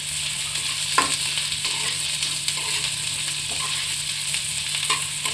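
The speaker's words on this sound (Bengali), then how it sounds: "ব্রাউন ব্রাউন কালার করে ভেজে নিচ্ছি" Onion frying in a pan until brown makes an even, dense sizzle close up, with occasional soft clinks of stirring and no voices.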